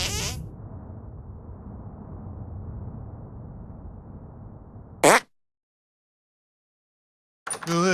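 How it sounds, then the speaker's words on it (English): A fart from the South Park: The Stick of Truth video game, a sustained low rumbling, sputtering blast lasting about five seconds, loud and alone, ending in a sharp burst, followed by silence and another brief noise. "Make your fart detonate behind me."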